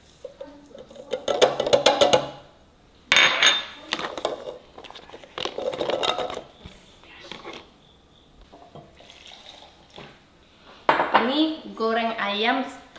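Pots, pans and cutlery clink and clatter in a home kitchen while a Padang village dish of fried chicken with jengkol is prepared with ginger, garlic, coriander and turmeric, in several busy bursts with quieter pauses between them.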